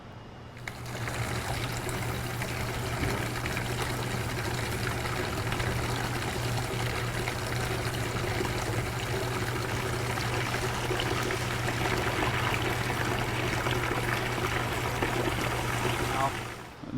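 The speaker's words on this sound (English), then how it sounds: "The water's still running." Tap water runs steadily into a 35 gallon replacement camper water tank, a constant close trickling rush over a low steady hum, starting abruptly and holding unchanged until it cuts off at the end.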